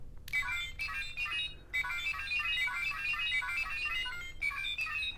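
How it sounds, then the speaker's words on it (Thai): Bright electronic melody tones from a Faiz Phone DX toy after a button press, a ringtone-like jingle playing in two phrases with a short gap, clear and close with no voices. "เดี๋ยวลองฟังเสียง อันนี้กันก่อนเนาะเสียงกด"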